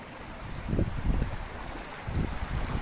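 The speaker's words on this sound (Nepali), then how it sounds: "पानी एकदमै फोर्सले बगिरहेछ।" Stream water rushes forcefully down a small channel feeding a village water mill in Dang, Nepal, a loud, close, continuous roar with low rumbling surges and no speech.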